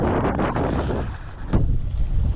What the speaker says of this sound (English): the wind's got up a little bit as predicted